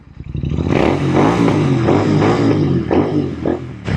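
A Royal Enfield INT/GT custom motorcycle engine rumbles and revs nearby with a rough, throaty exhaust, pulsing steadily as it rides along.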